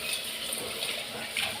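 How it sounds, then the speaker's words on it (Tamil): Tap water runs continuously into a vessel in a home kitchen to collect water for cooking sambar, a soft, steady hiss and gush heard close by. "ஒரு துண்டு தண்ணி பிடிச்சி வச்சுக்கலாம்."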